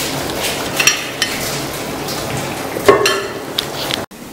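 Beets frying in a pan for red borscht give a steady, fairly loud sizzle, with occasional scrapes and clinks of a utensil stirring against the cookware; no one speaks.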